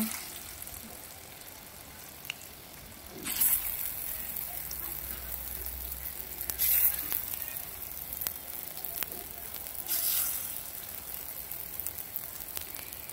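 Mung lentil fritters frying in mustard oil, a soft steady sizzle like light rain with brief louder bursts of spitting as batter meets the oil, heard close with no talking.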